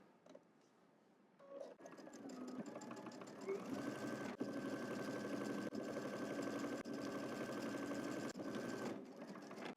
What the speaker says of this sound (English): You can reinforce that corner there by backstitching a few times.